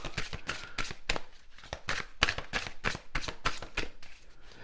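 Tarot cards are shuffled and handled close up in a rapid, even run of crisp riffling slaps and flicks, fairly quiet and with no talking.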